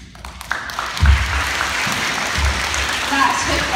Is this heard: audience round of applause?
yes